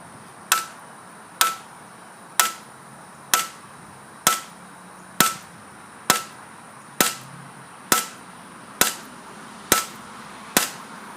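An Opinel No.8 knife is struck hard into wood about a dozen times in an overstrike test, each blow a loud, sharp crack at an even rhythm of roughly one per second.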